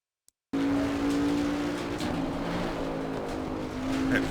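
A 2018 Bentley GT3 race car at Watkins Glen in Assetto Corsa Competizione starts up abruptly after a moment of silence, then drones loudly and steadily. A brief tire squeal comes near the end, with no voices.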